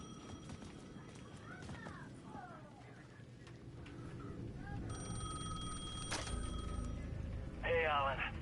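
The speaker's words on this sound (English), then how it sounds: "The payphone at the edge of the plaza was ringing again" A payphone rings with steady, repeated electronic trills at the edge of a plaza in Alan Wake 2, heard over a low ambient game soundscape; the rings are moderately loud and fairly close, and a short louder burst follows near the end.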